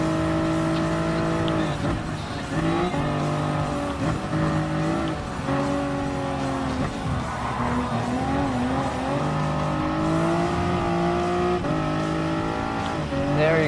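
Toyota Supra race car in Gran Turismo Sport roars continuously at close range, its engine pitch climbing and dropping through gear changes, with brief tire squeals during a race.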